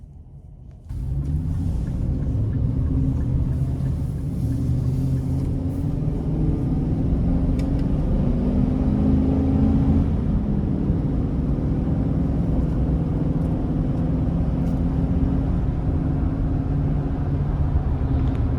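Chevrolet Express 2500 conversion van with a 6.6 liter V8 rolling on the road, a steady deep engine and road rumble that swells as it picks up speed and holds loud and close throughout, with no talking.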